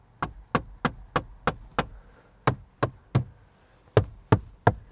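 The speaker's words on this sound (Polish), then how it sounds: "Ale potem zaczynacie stukać." Knuckles rap on the interior trim panels of a Mercedes C 200, a run of about a dozen sharp, hollow plastic knocks in a loose rhythm, close and distinct, with no voices.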